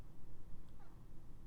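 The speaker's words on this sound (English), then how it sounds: "Time for a little purr and meow stretch" A cat gives a faint, brief meow, a single soft call set against steady low indoor background noise.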